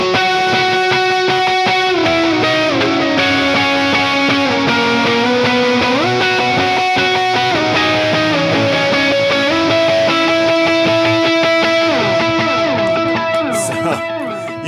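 Electric guitar with heavy overdrive and delay playing the lead part of a song, sustained singing notes sliding between pitches, loud and continuous with a thick, washed-out tail.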